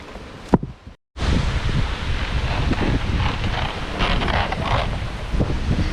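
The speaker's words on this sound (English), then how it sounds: "It is extremely windy." Strong wind roars and buffets the microphone continuously after a brief bump during a black bear hunt in Wisconsin, a loud, rumbling gusty rush with no talking.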